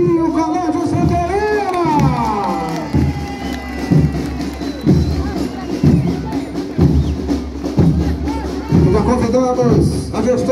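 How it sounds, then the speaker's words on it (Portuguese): Crowd cheering and clapping at a school civic parade in Rio Doce, Olinda, saluting Colégio Santa Helena, mixed with children's shouts, a rhythmic thumping beat and an amplified voice over the noise. "Vamos aplaudir o Colégio Santa Helena!"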